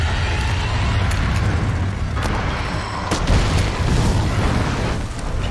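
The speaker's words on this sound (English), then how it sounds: "What was that explosion?" A loud, sustained boom with rumbling blasts and crackling rolls on for several seconds in the video game Monster Hunter World, during a Rathalos hunt, with no talk over it.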